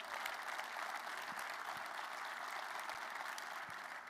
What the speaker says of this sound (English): How about a round of applause for Colleen?